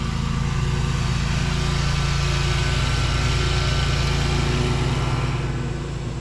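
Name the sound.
lawn mower mowing overgrown grass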